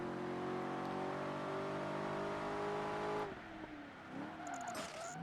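A racing car engine in Project Gotham Racing 3 holds a steady high whine on a lap of an online race, then drops off sharply and revs back up unevenly through a corner, with no talk over it.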